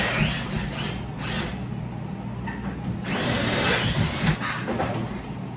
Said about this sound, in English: I'll then take my 1/4-inch drill bit